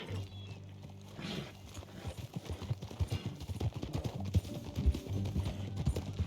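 Horse hooves clip-clop steadily in Red Dead Redemption 2, a rhythmic trot of close, moderately loud beats running the whole time over a low background hum.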